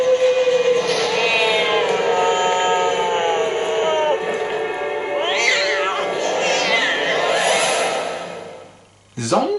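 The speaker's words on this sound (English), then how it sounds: "Zombie cat?" Drawn-out, wavering meows from a zombie cat in a video game, loud and continuous over a steady game background hum, ending in a brief lull and a short sharp burst.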